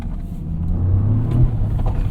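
A Toyota GR Corolla turns into a corner, its engine giving a brief, close, steady rumble that swells slightly partway through.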